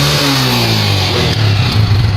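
A Peugeot motorbike engine runs close by and loud, its drone climbing in pitch as it revs up and holding a high, busy roar without any talking.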